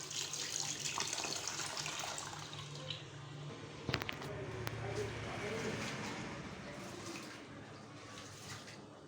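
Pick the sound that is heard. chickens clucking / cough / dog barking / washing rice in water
washing rice in water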